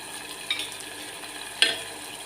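Garlic, green chilli and turmeric fry in hot oil for a jackfruit seed and prawn curry, a soft steady sizzle with two brief stirring clinks.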